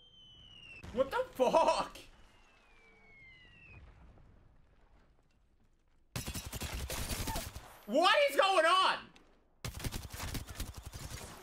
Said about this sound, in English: there's explosions in Apex. Legitimate missiles.